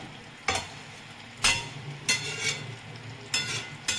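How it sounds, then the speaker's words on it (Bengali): Chicken for biryani sizzles in a hot pan as it is stirred, with four or five sharp scraping strokes standing out over a constant frying hiss. "আর একটু আমি মাংসটাকে আরও কিছুক্ষণে আমি কষাবো"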